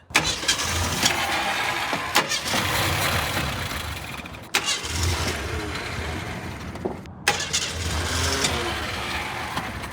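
Car engine cranking repeatedly on Jack Daniel's whiskey as fuel, loud close starter whirring in three long strained attempts separated by short clicks and pauses, never catching.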